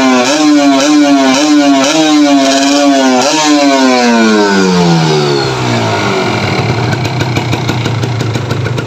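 Kawasaki Ninja FI motorcycle engine revved up and down repeatedly at close range, a loud rising and falling two-stroke-like whine that then settles into a rough, sputtering idle.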